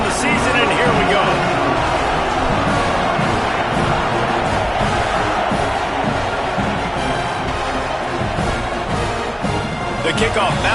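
Home crowd roaring steadily at a college football kickoff between Texas and Penn State, a loud continuous stadium wash of cheering and noise with a few thuds throughout.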